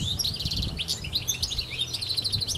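A European goldfinch sings a bright, rapid, twittering song of high chirps and trills, close and clear and continuous from start to end, with no other voices.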